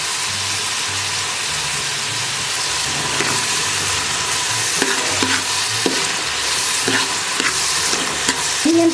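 Onions sizzling and frying in a pan for a Nellore-style fish curry, stirred repeatedly with a utensil that scrapes and clinks in an irregular rhythm over a steady, close hiss of hot oil.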